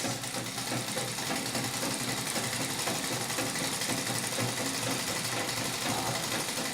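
A Singer 31-15 industrial treadle sewing machine runs steadily during free motion quilting, giving a continuous fast mechanical whirr and rattle at an even level, close by, without talk.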